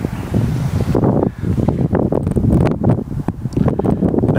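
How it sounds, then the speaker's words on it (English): Gusty wind blowing across an open outdoor kite flying field on a cloudy day after snow, a loud continuous rushing roar buffeting the microphone with fluctuating strength. "Wind's coming up."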